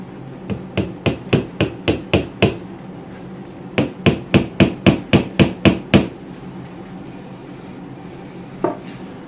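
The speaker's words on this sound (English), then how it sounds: "I may need to use a hammer for this." Repeated hammer blows fitting wooden boards of a Bluewud TV entertainment unit together during assembly, two loud bursts of about eight evenly spaced strikes each, close up, with no talking.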